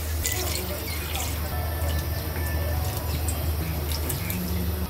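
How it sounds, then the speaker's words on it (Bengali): Water and vegetables hit frying ginger-garlic paste, making a soft bubbling hiss with scattered drips and splashes, fairly quiet and close. "এখন এই যে পানি দিয়ে সবজি দিয়ে দিই।"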